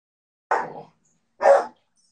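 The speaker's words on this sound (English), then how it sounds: "Your dogs, oh my God, they want attention." A dog lets out two short, separate barks about a second apart, close and fairly loud, with silence between and after them.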